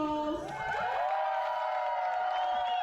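Roller derby spectators at a Rotterdam versus Eindhoven Rockcity Rollers bout cheer and whoop for the officials, a steady wash of crowd noise with scattered shouts that lasts throughout.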